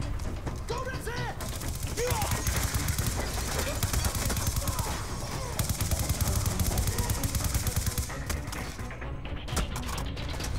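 Sustained automatic gunfire from a Call of Duty Black Ops 2 campaign battle rattles continuously for the whole stretch, dense and loud, with a voice talking over the shooting.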